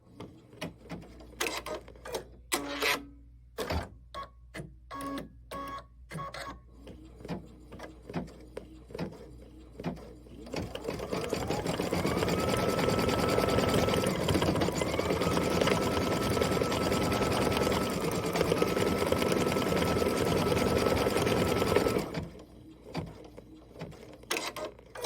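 A Kimberbell embroidery machine stitches a star and dots onto a mitten in white thread, running as a steady, loud mechanical whir for about ten seconds after scattered handling clicks and knocks, then stopping.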